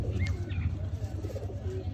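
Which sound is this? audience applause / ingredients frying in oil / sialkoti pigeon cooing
sialkoti pigeon cooing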